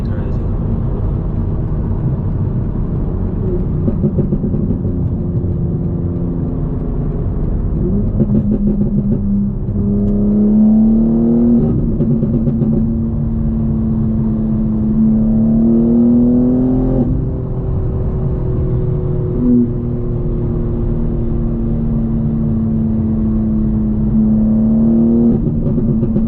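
A 750 hp BMW G82 M4 Competition revs hard through the gears, its engine note climbing in pitch then dropping at each shift, loud and close from inside the cabin with occasional talk mixed in.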